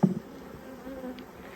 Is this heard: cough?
no